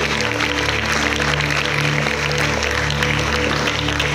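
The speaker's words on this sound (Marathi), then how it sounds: "त्याच्यानंतर शिवदास सर यांचं टाळ्या वाजवून स्वागत करायचं आहे।" An audience at a school's World Yoga Day event applauds to welcome staff and guests, a continuous dense wash of clapping from many hands with a steady electrical hum underneath.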